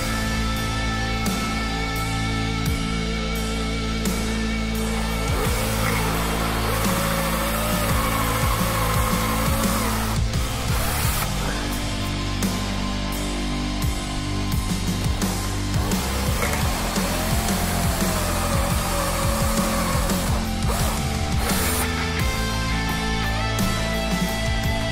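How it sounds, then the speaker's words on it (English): Router bit cutting into the wood of an ESP/LTD guitar body during body modifications, a steady loud close whine running continuously with slight changes in pitch as the cut moves. "Now, just to make sure my router bit"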